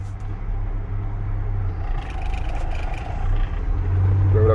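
Car engine idling in second gear with the brake held, a steady low rumble close by that grows slightly louder toward the end.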